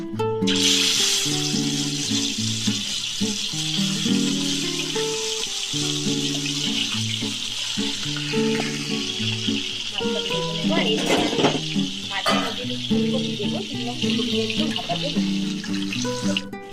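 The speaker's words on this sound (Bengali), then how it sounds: "এবার আমি তেলটা গরম বসিয়েছি, তেলটা গরম হয়ে গেছে, এর মধ্যে মাছগুলো ছেড়ে দেবো" Rohu fish pieces fry in hot oil with a loud, continuous sizzle and crackle close up, while music plays throughout and a few clinks sound now and then.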